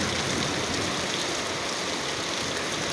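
Steady rain falls outside, a dense, even hiss of drops on surfaces that stays constant and fairly close throughout.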